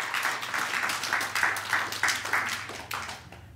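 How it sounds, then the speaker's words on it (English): Congregation hand clapping in praise during a church sermon, a group clapping in a fairly regular rhythm, moderately close, with little talk. "give him a hand clap of praise"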